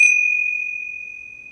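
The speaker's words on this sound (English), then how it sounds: "I'm going to open and close the puja with a gong." A single struck metal tone opening a puja, a bright sustained ring with a clean steady pitch that slowly fades over a second and a half, heard alone without talking.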